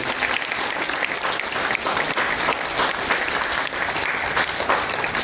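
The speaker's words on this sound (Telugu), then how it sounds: "ఒకసారి గట్టిగా చప్పట్లు కొట్టారు" An audience at a felicitation event for IAS and IFS officers claps loudly and steadily, a dense continuous applause holding strong throughout without pause.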